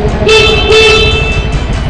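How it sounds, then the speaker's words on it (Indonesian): A motorcycle horn sounds twice in quick succession, two steady tonal blasts close by over a low idling Honda motorcycle engine rumble. "cek klakson apakah nyala dengan baik atau tidak"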